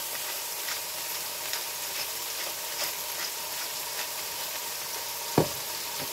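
Chopped tomato sizzles and crackles steadily in a hot frying pan, a close, even hiss of frying with one soft knock near the end and no talking.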